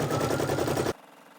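A computerized embroidery machine stitches a gold thread border around a patch on a denim jacket. The rapid needle chatter runs steady and loud for about a second, then cuts off abruptly and the room falls quiet.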